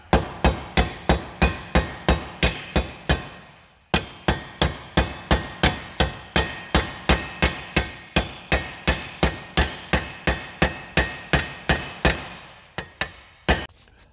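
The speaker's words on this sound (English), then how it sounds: "You just hammer." Steady, ringing hammer blows drive a metal pin through a shovel handle held in a vise, in an even rhythm, around thirty hits with a short pause, then a few final strikes, loud and close.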